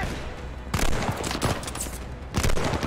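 Machine gun fire in the video game Call of Duty Vanguard, loud rapid bursts of automatic gunfire with overlapping shots, dense and continuous with a brief lull before a second burst.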